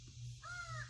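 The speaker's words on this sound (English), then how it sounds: "Crow up there." A crow caws overhead in a few drawn-out, harsh calls, fairly close and clear above a steady low hum, with no talking.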